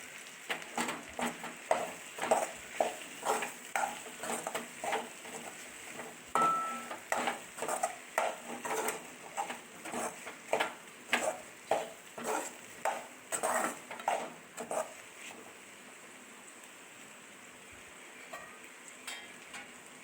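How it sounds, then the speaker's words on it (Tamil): A spatula scrapes and turns an ivy gourd stir-fry sprinkled with grated coconut in a pan, giving quiet rhythmic strokes for about fifteen seconds before trailing off into near silence. "கோவக்காய் வெந்ததுக்கப்புறம் லைட்டாக தேங்காய் பூ தூவி ஒரு கிண்டி விட்டுக்கோங்க"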